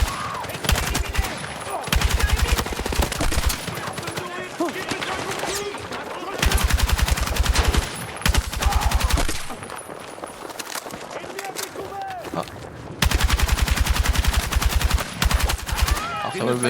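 Battlefield 6 campaign gunfire: sustained machine-gun bursts rattle loudly in repeated volleys separated by brief lulls, mixed with voices and battle noise.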